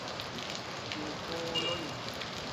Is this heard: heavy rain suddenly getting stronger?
yes